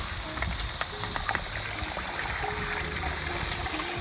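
Water sprays steadily onto freshly tumbled agate, jasper and petrified wood rocks, a constant hissing rush with small irregular splashes and clicks of stones.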